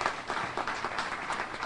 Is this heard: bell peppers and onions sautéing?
no